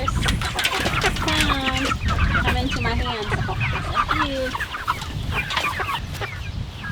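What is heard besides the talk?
Cornish Cross chickens clucking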